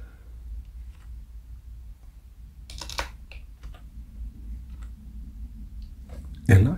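Typing on a computer keyboard while working in an Excel spreadsheet: a short cluster of quick keystrokes mid-way, a few scattered taps, and one louder key press near the end, over a quiet low room hum.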